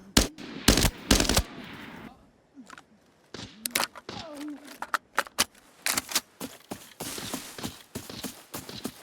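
Gunfire in the shooter game Arena Breakout Infinite comes as sharp, loud bursts of shots, first a quick cluster of reports, then scattered single cracks and rapid volleys mixed with footsteps and clattering gear.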